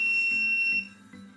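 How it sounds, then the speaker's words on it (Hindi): A long, steady electronic buzzer tone from an Arduino-based keypad password door lock sounds loudly for most of the clip, then cuts off, leaving faint background noise. "Long buzzer."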